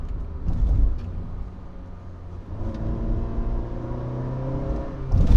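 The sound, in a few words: Honda City CVT engine revving during acceleration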